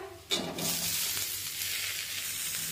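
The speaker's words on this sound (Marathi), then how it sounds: "आता यामध्ये टोमॅटो टाकूया" Tomatoes drop into a pan of roasted garlic, bursting into a sudden loud sizzle that settles into steady close frying hiss, for a tomato thecha chutney.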